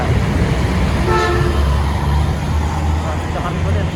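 A bus telolet horn plays a short tonal melody on a busy Jakarta street on New Year's Eve near Kota Tua, over rumbling traffic and crowd noise with voices nearby.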